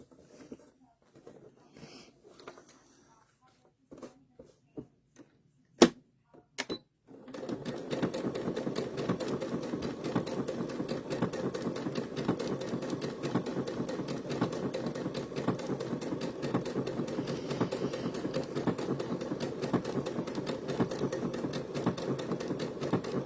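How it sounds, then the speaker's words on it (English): After some quiet clicks and thumps, a treadle sewing machine starts up and runs continuously with a rapid, steady mechanical clatter for a long stretch. "Now, I have a Treadle sewing machine."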